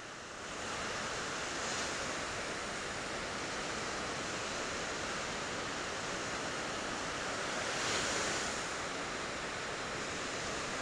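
Steady broadband roar of ocean waves breaking at sunset, recorded from a Hubsan H501S drone in moderate wind, with a slight swell in loudness midway and near the end.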